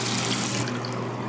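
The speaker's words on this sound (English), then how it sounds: "Fill it up with some water." Water from a tap pours steadily into a ball python's water dish, a close, continuous rushing splash with no voices.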